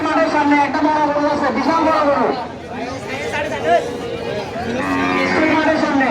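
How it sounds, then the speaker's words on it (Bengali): A large cow lows at a busy cattle market in Noakhali, long deep moos up close while people chatter around it. "আমরা আরেকটা গরু পাই গেছে অনেক বড় এটাও কিন্তু বড় বিশাল গরু"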